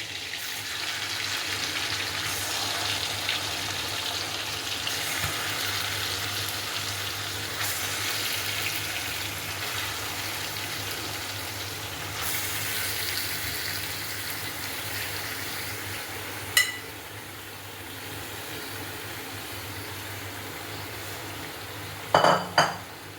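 Marinated chicken shallow-fries in butter with a steady, even sizzle throughout, broken near the end by a few sharp clinks of utensils against the pan. No one speaks.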